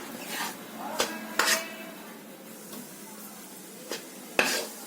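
Milk powder being stirred into a mixture in a pan for malai laddu, with soft scraping and a few sharp clinks of the spoon against the pan, several separate knocks spaced unevenly.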